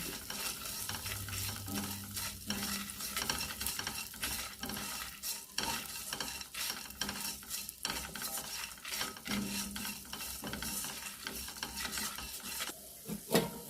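Coriander and chili roast in coconut oil for a chickpea curry, a busy sizzle under repeated scraping stirs of a spoon against the pan, close up and with no speech.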